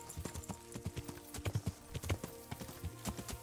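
Horse hooves in the medieval video game Kingdom Come: Deliverance, clip-clopping in a steady walking rhythm, fairly faint and close, with soft game ambience underneath.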